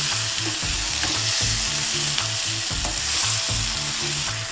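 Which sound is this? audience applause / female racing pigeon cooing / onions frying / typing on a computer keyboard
onions frying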